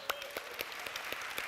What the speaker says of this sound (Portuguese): Ele merece o mais lindo aplauso